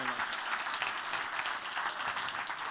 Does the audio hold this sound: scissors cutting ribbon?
no